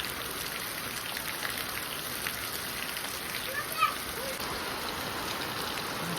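Steady rain pours down on a village in Botad, Gujarat, a dense even patter of drops on surfaces with a few brief splashes, fairly quiet and unbroken.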